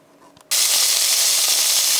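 Vegetables for fajitas hit a hot pan and burst into a loud, steady sizzle that starts abruptly after a brief quiet moment and holds strongly to the end.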